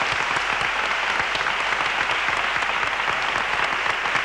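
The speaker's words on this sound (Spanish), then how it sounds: "Elo, aplausos, por favor." A crowd applauds steadily, a dense, even patter of clapping hands that holds at the same level the whole time.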